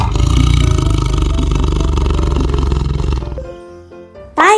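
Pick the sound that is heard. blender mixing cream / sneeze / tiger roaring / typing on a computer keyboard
tiger roaring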